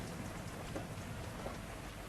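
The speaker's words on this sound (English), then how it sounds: "That's rain." Steady rain falls in a continuous broadband patter, evenly loud throughout with no voices, a soft outdoor downpour.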